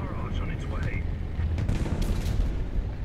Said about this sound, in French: Un petit coup d'artillerie sur la tronche de l'ennemi planqué derrière.